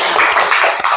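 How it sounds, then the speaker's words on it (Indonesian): A classroom of students clapping their hands during a microteaching lesson, a quick burst of several brisk, close claps in a roughly even rhythm, with no talk. "tepuk tangan."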